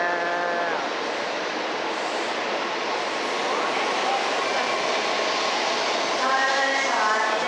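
A Shinkansen high-speed train at a station in Japan, its steady broadband rush continuing throughout at moderate loudness, with faint tonal whines and rail hum underneath and occasional murmured voices.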